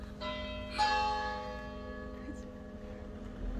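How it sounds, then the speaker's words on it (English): A nearby church bell rings out with a strong struck tone that swells and then hangs in a long ringing decay, sounding over a quiet indoor background. "The bell is ringing."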